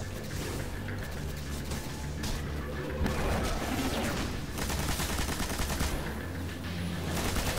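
Heavy-weapon gunfire in the Destiny video game on Venus, a sustained loud stream of rapid shots with crashing impacts running the whole time, no talking.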